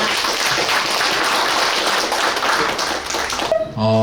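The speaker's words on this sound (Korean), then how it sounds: "박수로 모시겠습니다" A welcoming audience at an ecotourism forum gives sustained, dense applause at full volume; it cuts off near the end, where a short tonal sound follows.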